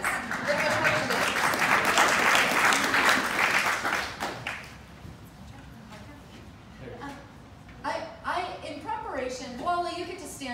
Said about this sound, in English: Why don't you all just give yourselves a round of applause again?